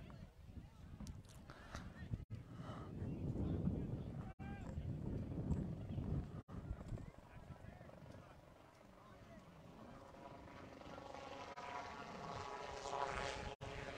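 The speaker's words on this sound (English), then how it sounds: "as we got a helicopter fly over here" A helicopter passes over an outdoor 14U youth football game, a steady broad rotor and engine drone that builds and then slowly fades, heard at a distance under crowd noise and talk.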